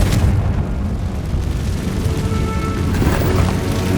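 A Confringo blasting curse goes off in Hogwarts Legacy, a steady roaring, rumbling blast that holds loud and dense for several seconds, with a fresh surge near the end.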